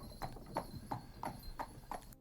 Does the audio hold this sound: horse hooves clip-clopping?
yes